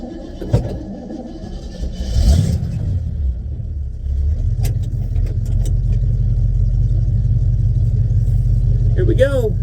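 A 1964 Chevy car, rescued from the desert, starts up and rolls down a driveway, its steady low engine rumble building and holding close, with a few brief clanks and a voice talking early on.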